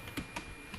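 A few soft keystrokes on a computer keyboard as a short comment is typed, three light taps spaced evenly, close and quiet.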